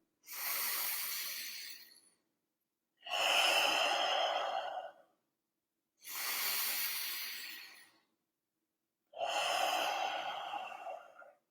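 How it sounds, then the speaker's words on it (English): Four long, deep breaths, each a drawn-out breathy inhale or exhale lasting about two seconds, separated by short silences, close and clear with no talking. "let's just take 3 big, deep breaths together"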